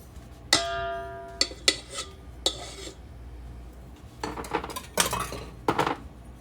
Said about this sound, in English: I'm going to switch my attachments to my dough hook as well